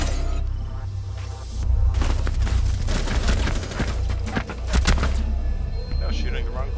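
Rapid gunfire and impacts in Rainbow Six Siege, a dense barrage of shots and sharp cracks over a steady low game rumble, close and loud throughout.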